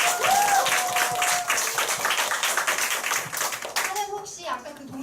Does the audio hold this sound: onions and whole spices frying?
no